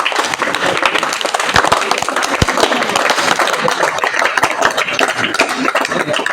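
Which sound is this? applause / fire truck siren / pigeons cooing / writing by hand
applause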